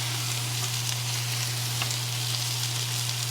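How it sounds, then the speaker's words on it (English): Cheesesteak meat laid over vegetables on a flat griddle at home, a dense continuous sizzle, close and steady, with a low constant hum beneath and no talking. "you want to put this meat on top of these veggies"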